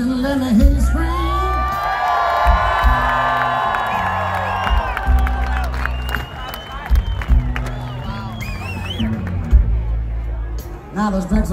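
A Jazzfest 2019 concert crowd at a show roars, screams and whoops loudly and continuously, with excited shouts rising and falling over the din.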